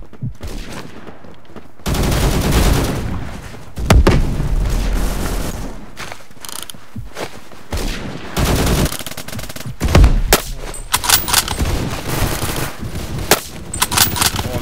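Dense gunfire in the shooter game Phantom Forces during a subway station match, with rapid automatic bursts and single shots cracking close by, broken by short pauses and heavy booming hits.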